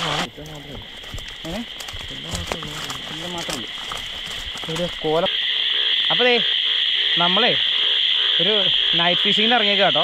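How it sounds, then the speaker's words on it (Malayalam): Frogs croak in a dense, steady night chorus over flooded monsoon paddy fields in Kerala, a continuous trilling wash that grows louder midway while someone talks over it. "അപ്പടി തവളകളുടെ ഒച്ചയാണ്"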